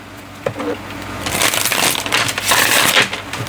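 A deck of tarot cards is shuffled up close, a soft papery riffle that swells into dense, rapid rustling and flicking bursts for a few seconds with no speech.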